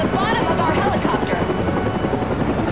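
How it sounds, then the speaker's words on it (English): Helicopter in the video game Batman Arkham Origins, a close, loud, steady rotor thrum and engine whine continuing throughout. "I can finally grapple a helicopter."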